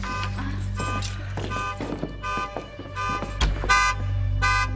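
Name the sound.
car alarm going off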